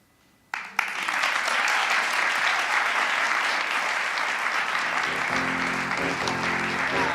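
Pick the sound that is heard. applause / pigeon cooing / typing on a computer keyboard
applause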